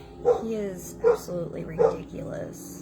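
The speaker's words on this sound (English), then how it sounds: "I apologize for my dog barking in the background." A dog barks in short yips and woofs behind a person talking, three or four quick barks spaced about a second apart, fairly close and clear.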